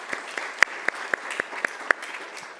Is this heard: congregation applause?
yes